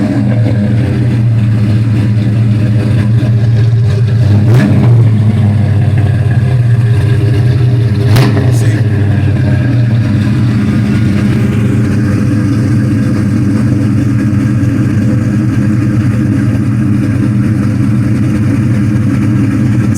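A large V8 engine in a rebuilt 1986 Monte Carlo idles steadily with a deep rumble, loud and close, with a couple of brief sharp spikes partway through.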